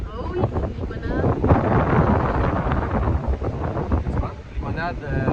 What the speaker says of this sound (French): Venteux aujourd'hui, mais au moins il y a des parties de soleil.